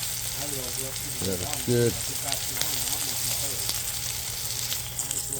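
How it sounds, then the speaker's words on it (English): A chuck roast sears on a hot grill surface, a steady close sizzle and crackle running throughout while someone speaks briefly over it. "so we're gonna get the other side seared"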